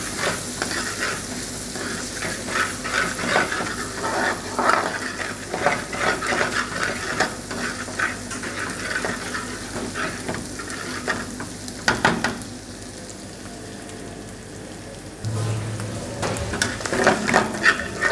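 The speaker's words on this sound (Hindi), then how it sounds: "अच्छा जी, अनियन और गार्लिक हमारा सोटे हो चुका है।" Chopped onion and garlic sauté in a pan for trout with lemon butter sauce, giving a steady close sizzle with rhythmic stirring scrapes throughout and a short quieter dip before the frying noise swells again.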